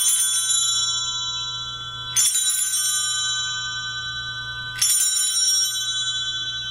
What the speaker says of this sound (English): Instead of the gong at a Solemn High Mass, we have beautiful bells.